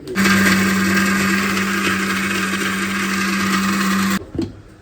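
A kitchen mixer grinder whirs loudly and steadily for about four seconds while grinding ginger and garlic into paste, then cuts off abruptly, leaving a brief clatter and rattle as the motor stops.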